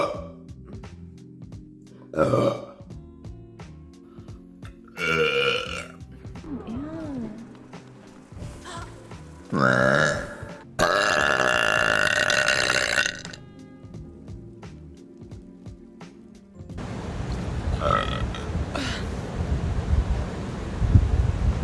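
Loud burps from a young woman, short bursts scattered between her talking and laughing, with a rougher noisy stretch near the end.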